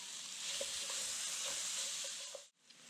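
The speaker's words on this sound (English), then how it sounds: "so this is just going to be a warm fry." Already-cooked pork is warm-fried with spices in a pan for a South Indian black dal and pork stir-fry, with a quiet, even sizzle and faint ticking that cuts out briefly near the end.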